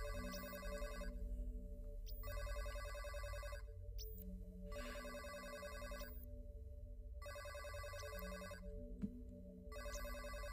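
A telephone rings in the video game Astronite, with steady electronic ring bursts repeating at even intervals over a constant low background hum and music.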